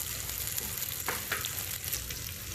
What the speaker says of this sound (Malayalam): എന്നിട്ട് ഇതൊന്നും ഇങ്ങനെ പെട്ടെന്ന് ഫാസ്റ്റിൽ ഫ്രൈ ആക്കി എടുക്കും